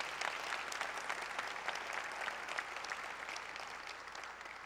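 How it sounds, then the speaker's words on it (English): Sustained audience applause fills a Los Angeles Metro State of the Agency meeting, a steady dense wash of many hands clapping at even loudness throughout, with no voices over it. "So please also give a big round of applause to Phil Washington."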